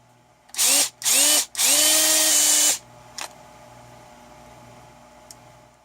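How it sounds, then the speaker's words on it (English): A power drill whirs loudly in three bursts, a short one, another short one, then a longer run, each winding up and stopping, followed by quiet room noise. "There's a drill."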